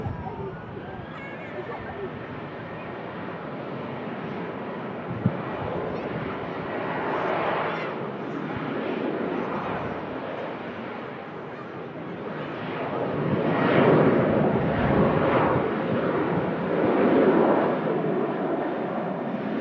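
Airliners roll and climb away at Manchester Airport, including a Loganair and a Pegasus jet, as a broad distant engine roar swells and fades over about twenty seconds beneath people talking.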